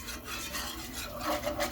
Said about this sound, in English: So now we're stirring it and getting that even color all the way around.